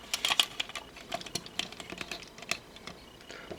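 A plastic Transformers Robots In Disguise Mega Class Midnight Express toy being folded and rotated, giving scattered small clicks and snaps of plastic parts, quiet and close, in irregular bursts.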